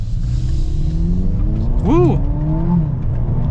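A Mercedes GLB 250 accelerating hard, its engine note rising steadily in pitch through a gear change, heard from inside the cabin with a brief excited shout over it.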